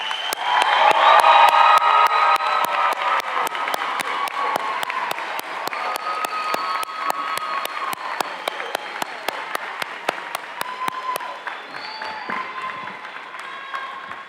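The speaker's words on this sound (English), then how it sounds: "this is the time where you guys can actually give them a real loud round of applause" A graduation crowd applauds and cheers loudly, dense clapping with whoops that gradually thins to scattered claps, heard from within the audience.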